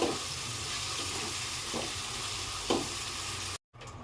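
Dried chapa shutki fish fries in bubbling oil with a close, steady sizzle and a few soft stirs, then a brief silent gap near the end.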